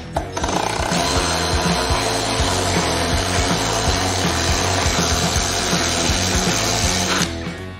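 A power drill with no dust-collecting attachment bores into a wall, making a loud, continuous whirring grind that holds steady for about seven seconds before cutting off, with no voices heard.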